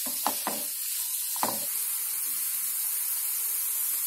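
Grated pumpkin fries in ghee for halwa, a steady soft sizzle close by, broken early on by a few knocks and scrapes of a spoon against the pan.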